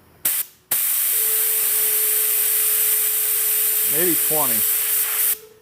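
A Sagola spray gun at about 22 PSI spraying sealer on a car bumper lets out a steady, loud hiss for several seconds after a short test burst. A faint hum runs underneath, and someone speaks briefly.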